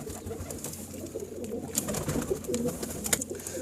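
Soft, repeated pigeon coos close by, with baby pigeons, blending with rustling and faint fluttering sounds in a steady, low background.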